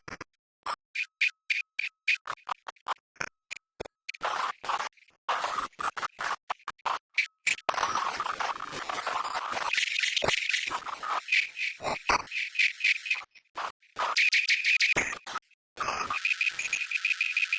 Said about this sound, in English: I do like using a random binary modulator on filter resonance.